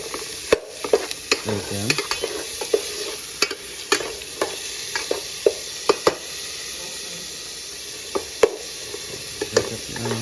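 Chicken frying in a pan with salt, a steady sizzle broken by sharp clacks and scrapes of utensils and a cutting board, with a brief spoken phrase.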